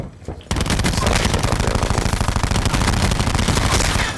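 Rapid full-auto gunfire from an automatic weapon in a video game, a loud dense rattle of shots starting abruptly after a brief quiet moment and continuing steadily to the end.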